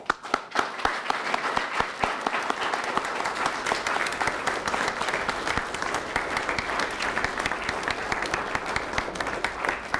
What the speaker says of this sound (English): applaud them for their tremendous efforts